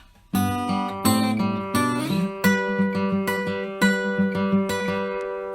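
Acoustic guitar strums the chord changes of a song at full song tempo, a series of ringing strums and plucked notes, close and clear with no voice.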